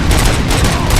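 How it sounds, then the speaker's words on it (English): Heavy gunfire in the RoboCop: Rogue City video game pounds out as a loud, close, continuous rapid-fire barrage with deep booming impacts for a full second, no voices. "Continuing fire."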